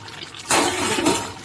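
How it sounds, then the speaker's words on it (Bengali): Potol and soybean masala curry bubbling in an open pot, a steady broadband simmering hiss that swells louder about a third of the way in and holds, with no voices. "ভালো করে ফুটে গেছে।"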